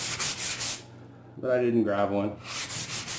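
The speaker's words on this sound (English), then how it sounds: "So all you're doing is just sanding" Drywall patch being sanded by hand with a sanding block, rhythmic rasping strokes close up, broken by a short spoken remark in the middle before the scraping resumes.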